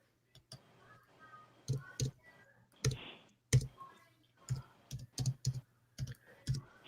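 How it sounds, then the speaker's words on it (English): Sparse computer keyboard keystrokes click out one by one in a quiet room, irregular single taps and small bursts spread across several seconds, with faint low background noise between them. "Someone's typing pi."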